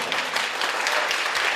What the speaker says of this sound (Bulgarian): Аплодисменти за Галина Георгиева